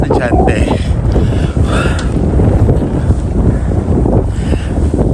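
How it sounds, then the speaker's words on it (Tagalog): Strong gusty wind during snowfall roars and buffets the microphone loudly and continuously, with faint voices mixed under the rush. "tapos mahangin pa, kaya nagdodoble-doble yung lamig"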